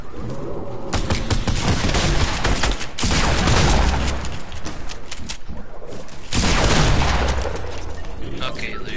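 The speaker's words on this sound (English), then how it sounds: "He's got a freaking minigun" Minigun fire in the Fortnite video game, long loud bursts of rapid continuous shots that stop and start again, with players talking over the gunfire.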